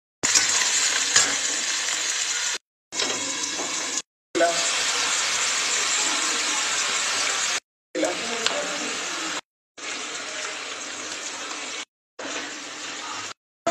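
Whole-spice tempering and green chili crackle in hot oil for a bottle gourd stem poppy-seed dish, a dense close sizzle broken into several short bursts by abrupt silent gaps.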